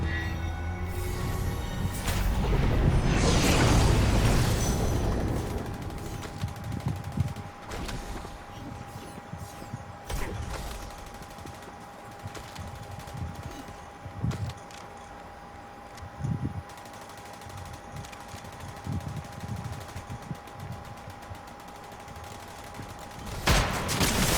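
Bursts of gunfire from the video game Fortnite, a dense volley early on followed by scattered shots and impacts spread through the rest, moderately loud with no talking.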